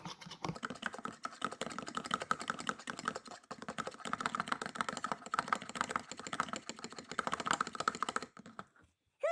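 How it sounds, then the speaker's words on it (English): Rapid, steady clicking of a fork whisking eggs in a bowl, close up and fairly quiet, continuing for several seconds before stopping. "let's beat up the egg some more"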